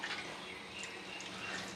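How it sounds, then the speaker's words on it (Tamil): Water is poured into a cooking pot while making vada curry in a home kitchen, a steady, faint rushing splash that continues without pause and with no one talking. "இப்போ நம்ம வந்து தண்ணி ஊற்றிடலாம்"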